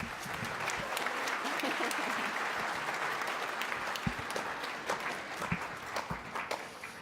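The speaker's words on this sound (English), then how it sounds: "So let's give him a round of applause." Audience applause for a seventh-grade student musician at a school band concert, sustained clapping from a crowd that thins toward the end into scattered individual claps.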